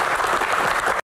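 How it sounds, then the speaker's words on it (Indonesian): An audience at a Q&A session for the Indonesian horror film 'Siksa Kubur' breaks into a short, dense burst of clapping that lasts about a second and then cuts off abruptly. "oke tepuk tangan dong untuk rekan-rekan"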